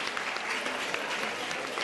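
Studio audience applause on a Catalan television spelling quiz show, a dense, even wash of clapping that holds at steady loudness from start to finish with no voices over it.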